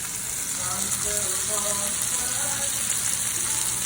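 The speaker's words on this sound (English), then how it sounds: "so we have 4 patties cooking." Four turkey patties fry in a pan with a loud, dense, steady sizzling hiss, close and unbroken, and a faint murmur of voices underneath.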